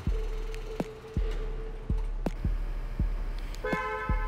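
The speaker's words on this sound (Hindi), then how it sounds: "अब ये आप जो आवाज़ सुन रहे हो, जो अलर्ट है गाड़ी अनलॉक और लॉक होने का" A 2022 Kia Sonet GTX+ gives its lock and unlock alert: a series of short, sharp chirps and toots at uneven intervals, close and clear over a low background hum.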